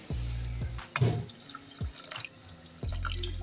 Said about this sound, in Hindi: मैं थोड़ा सा पानी ऐड करूँगी